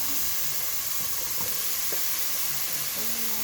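Onions and sponge gourd (patola) frying in a pan, giving a steady, even sizzle and hiss with occasional small pops and stirring clinks, close and continuous.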